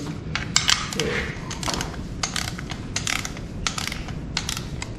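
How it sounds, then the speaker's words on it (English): Ratchet on a 6.0 LS engine rebuild cranks down the front and rear cover bolts in repeated bursts of close, rapid clicking, with short pauses between strokes. "let's torque it down to 18 foot-pounds"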